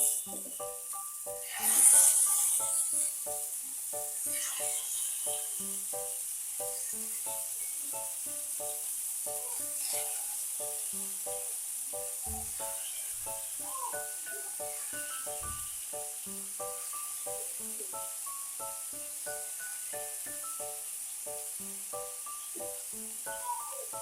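Chicken malai boti hits oil spread across a hot pan, giving a steady, soft hissing sizzle that starts with a brief louder burst and carries on evenly under light background music.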